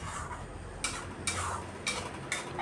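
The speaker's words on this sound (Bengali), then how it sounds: "টক দইটা দিয়েও আরও কিছুক্ষণ কষিয়ে নিচ্ছি।" Egg curry gravy with sour yogurt being stirred and cooked down in a pan, a soft low simmer broken by four sharp spoon scrapes and clinks against the pan, close and without talk.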